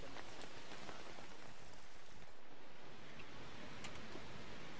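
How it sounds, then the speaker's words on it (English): Rain falls steadily atop a mountain tepui, a dense, even hiss of drops on rock and vegetation with no voices. "as soon as it stops raining"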